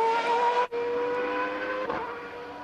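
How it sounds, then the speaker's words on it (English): A Renault V10 engine in the back of a Williams Formula One car screams at high revs during the 1994 Spanish Grand Prix, a steady loud whine with a brief dip as the note shifts. "Renault V10 in the back of the Williams for Damon Hill."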